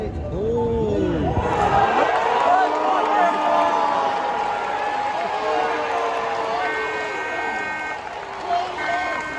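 Excited convention crowd cheering at a Vshojo VTuber member announcement, a loud, continuous roar of many voices with shouts and whoops, some rising yells early on and sustained cheering throughout.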